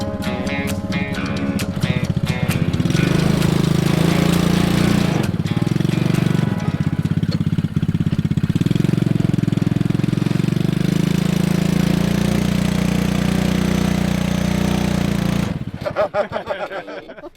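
A small mini jeep engine fitted with a new carburetor runs loud and steady outdoors, a buzzing, knocking drone with slight revving changes, then cuts off near the end, leaving sputtering clatter.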